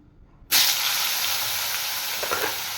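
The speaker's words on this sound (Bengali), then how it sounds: "এবার কেটে রাখা বেগুনগুলো ভেজে নেব" Thinly sliced eggplant dropped into hot oil in a pan, salted and sprinkled with turmeric, bursting into a loud, steady sizzle that holds for a couple of seconds after a brief quiet start.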